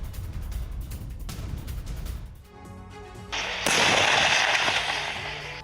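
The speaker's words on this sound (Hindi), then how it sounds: "रूसी तोप आग उगल रही हैं। रूसी तोप लगातार बारूद बरसा रही हैं।" Repeated booming blasts of Russian artillery fire in the Russia-Ukraine war, some distant and rumbling, with a louder crackling burst and ringing roar near the end.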